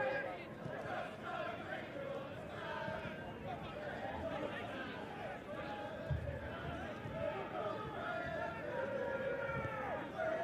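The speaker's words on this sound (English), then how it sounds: "You hear the crowd chanting." Football supporters chanting in a stadium during a Borussia Dortmund match against Plymouth Argyle, a steady roar of crowd voices in the background beneath a commentator talking throughout.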